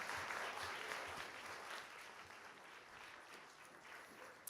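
A crowd claps steadily, the applause starting fairly full and gradually thinning and softening toward the end.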